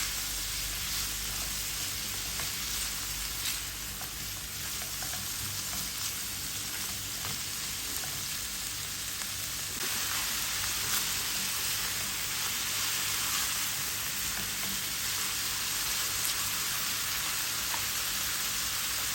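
Shrimps, broccoli and white beech mushrooms cooking in a pan with tapioca flour, giving a steady, even sizzle and crackle that runs unbroken throughout, close and alone without voices.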